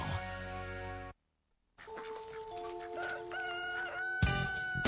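Chickens in a chicken coop, with rooster-like crowing and clucking calls layered over steady background noise, broken by a brief silent gap midway.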